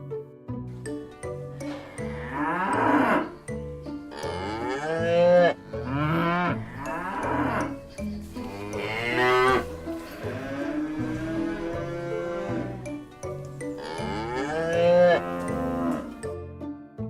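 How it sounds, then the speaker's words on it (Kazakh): A cow moos repeatedly in long, drawn-out calls with a few short breaks, loud and close, set against steady background music. "Бұл сиыр. Сиыр му,"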